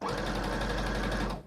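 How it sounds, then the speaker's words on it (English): A sewing machine runs close by while stitching near the edge of a cotton T-shirt, a fast, even whir lasting about a second and a half. "I'm stitching close to the edge"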